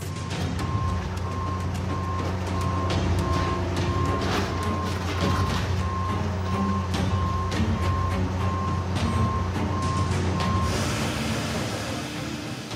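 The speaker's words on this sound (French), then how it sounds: "l'énorme pince décortique méticuleusement la carcasse" A huge hydraulic claw tears apart a wrecked car carcass at a scrapyard, with a loud, continuous grinding machinery roar and a steady train of reversing beeps that stops near the end.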